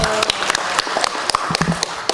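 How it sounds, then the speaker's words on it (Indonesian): A burst of scattered clapping and applause at a parliamentary commission meeting, brisk and fairly loud, with sharp claps standing out over a dense background. "Mas Nadiem, tepuk tangan untuk beliau."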